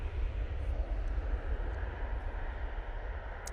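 An airplane at Manchester Airport gives off a steady, broad jet-engine roar that stays even and moderately distant throughout.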